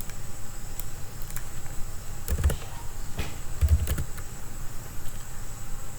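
Keystrokes on a computer keyboard as the enable command is entered on a Cisco switch, a short run of close, crisp clicks with a couple of heavier thumps, alone with no talking.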